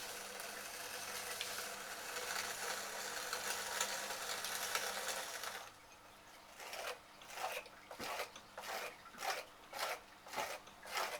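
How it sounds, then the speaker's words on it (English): A hacksaw blade scrapes across the surface of a very large clay moon jar, a steady rasping at first, then a run of short, rhythmic strokes repeating about once a second, close and fairly quiet. "use this hacksaw blade and go over the surface so that it takes the slip"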